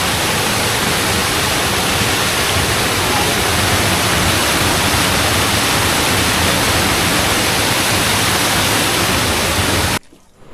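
Kalu Waterfall on the Aadrai jungle trek, a loud, continuous rushing roar of falling water that holds steady for about ten seconds and then cuts off abruptly.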